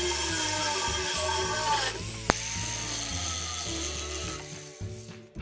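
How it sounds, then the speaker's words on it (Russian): A metal rod for a fishing rod holder is sawn off, with a rapid rhythmic grinding rasp running steadily, close and fairly loud, broken by one sharp click midway. "Сейчас отпилю, продолжим дальше."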